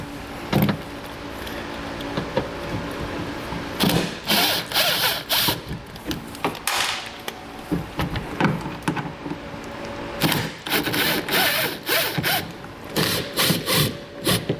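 A power driver backs Torx screws out of the fender liner on a 2016 Volkswagen Jetta. Short whirring bursts come in clusters over a quiet background, fairly close and moderately loud.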